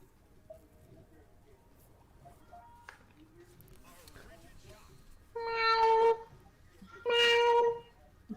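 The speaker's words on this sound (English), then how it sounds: "You really can't hear her meowing?" A cat meows twice, each cry loud, close and drawn out, separated by a short pause over a quiet room with faint background sounds.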